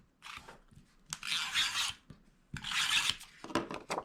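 Tape pulled off a roll and pressed onto the back of a plaid paper piece for a card folio, several close, scratchy rips and rubs in short bursts, no speech.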